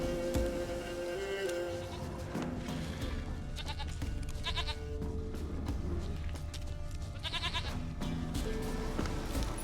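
A goat bleating in The Witcher 3 video game, several short wavering bleats at moderate distance over game ambience with faint hoof-like movement and music.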